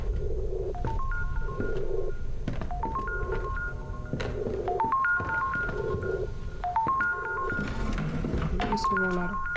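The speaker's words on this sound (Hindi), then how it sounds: "किसको फोन आ रहा?" A telephone rings repeatedly in a horror video game set in a granny's house, its tonal ring bursts recurring in a steady pattern with dial-like tones over a dense, noisy background.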